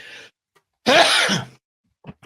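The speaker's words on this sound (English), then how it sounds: "I sneezed on air." A single person's sneeze on a live broadcast, one loud burst lasting about half a second after a short quiet pause, with faint breathy sounds before and after.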